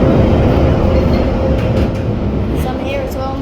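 A London Underground Bakerloo line train runs steadily with a loud, continuous low rumble and rattle heard from inside the carriage, easing slightly in the second half, with faint higher squeals near the end.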